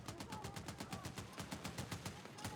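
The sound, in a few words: Vector submachine gun firing in video game Battlefield 6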